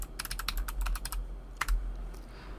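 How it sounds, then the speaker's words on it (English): Password typed on a computer keyboard during Windows setup: a quick run of crisp, close key taps, a short pause, then one sharper press, with no voices. "I'm gonna type the password in here."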